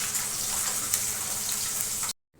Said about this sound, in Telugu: తక్కువ ఆయిల్తో ఫిష్ ఫ్రై చేసుకోవాలంటే ఇలా చేసుకుంటే చాలా బాగుంటుంది